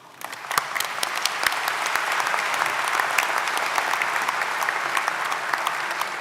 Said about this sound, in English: why don't we give our amazing musicians a clap?